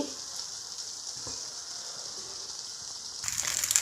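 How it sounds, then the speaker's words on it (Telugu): Oil sizzling around a suji rava (semolina) dosa on a hot pan, a steady soft hiss that grows louder and crackly near the end, with no voices. "చుట్టూ కొంచెం ఆయిల్ వేసుకోండి"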